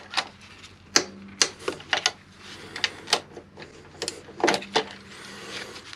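A socket wrench with a 14mm socket works on bolts of a Yamaha MT-01 motorcycle, giving rapid irregular metallic ratchet clicks in short bursts, close and fairly crisp, with no speech.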